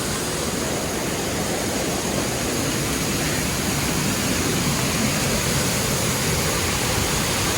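Roaring waterfall heard from right behind the falling water in the Uinta Mountains foothills, Utah: a loud, dense, unbroken rush that fills every band, with no voices.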